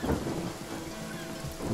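Rain conjured by a spell in a video game, a short burst of rushing downpour with a low rumble like thunder beneath it, fairly loud and steady.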